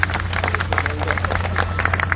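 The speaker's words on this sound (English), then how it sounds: "I demand another round of applause for the Finance Minister." Steady applause from a crowd at an official event, a continuous patter of many hands clapping with a low hum underneath.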